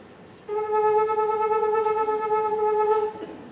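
A single sustained voiced tone imitating a trumpet, held steadily for about two and a half seconds with a gentle wavering vibrato made by wiggling the lips, rich in harmonics and alone.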